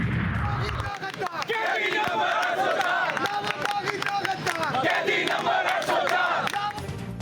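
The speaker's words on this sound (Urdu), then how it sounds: "پنجاب اسمبلی کے سامنے قیدی نمبر 804 کے نعرے" Protesters outside the Punjab Assembly chanting slogans about prisoner number 804, a loud crowd of voices shouting in rhythmic bursts, close and continuous, with clapping and crowd babble mixed in.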